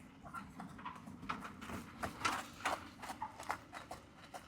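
Trotting horse hooves clip-clop in a steady rhythm at a harness racing training centre, sharp regular hoofbeats close by over a low rumbling background.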